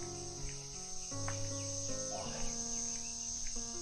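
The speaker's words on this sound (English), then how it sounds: "It's really fucking loud cicadas." Loud, steady cicada buzzing fills the air, a dense continuous drone with high shimmering tones and a low hum underneath.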